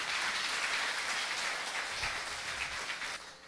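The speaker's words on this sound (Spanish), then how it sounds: "Dale un aplauso fuerte al Señor." A church congregation applauds loudly and steadily, a dense wash of clapping that holds evenly for a few seconds before tapering slightly at the end.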